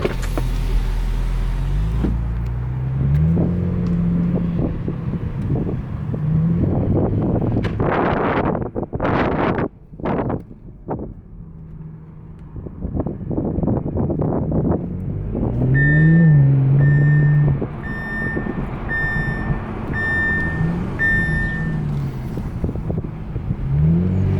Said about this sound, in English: Let's take this for a quick drive around the lot so you can hear the engine.